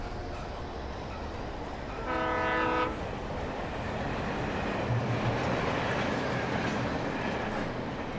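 A distant train horn in the video game Alan Wake Remastered sounds briefly over a steady rumbling wash of noise, with a low mechanical tone pulsing later on.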